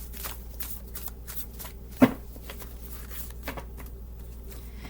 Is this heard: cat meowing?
no